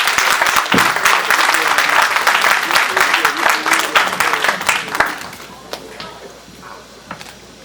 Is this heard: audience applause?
yes